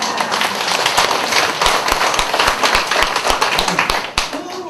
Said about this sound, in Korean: 처음으로 알아서 박수를 쳤고 처음으로